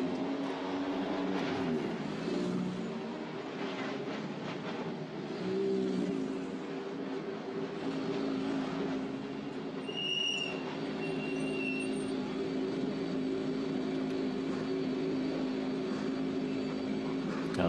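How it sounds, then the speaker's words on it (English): Formula Renault Eurocup race cars roll into the pit lane at Spa-Francorchamps, a steady blend of engine drone and mechanical hum that holds for the whole stretch, with a few higher whines and tones rising briefly partway through. "Cars coming into the pit lane, where the drivers are being informed that the race is off for the morning."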